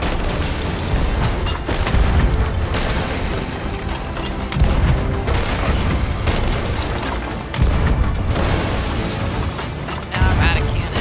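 Dense, continuous booming blasts of ship cannon fire in the video game Sea of Thieves roll on without pause, loud and heavy, with voices talking underneath the constant rumble.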